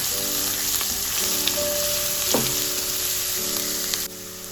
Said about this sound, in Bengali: রসুনের পেস্টটাও পেঁয়াজটার মধ্যে দিয়ে ভালো করে ফ্রাই করে নেব